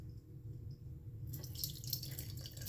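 Water is poured through a small funnel into a Navage nasal irrigator, a quiet trickling splash that begins partway through and continues softly over a low background hum.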